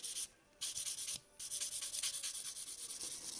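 A sponge file buffs an acrylic nail tip in quick, close, steady rubbing strokes, with two brief pauses before a continuous run of soft scratchy passes.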